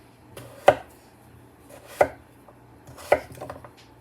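Three heavy, evenly spaced knife chops through goat meat on a cutting board as it is portioned for a Jamaican-style barbecue, close and sharp against a quiet room.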